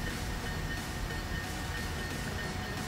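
A train in the Transport Fever video game gives a steady, moderately quiet rolling rumble with a faint hiss. It runs evenly and continuously, with no voices.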